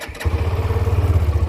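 A 2026 Hero Xtreme 125R motorcycle engine cranks and catches, then settles into a steady, throbbing low idle, loud and close.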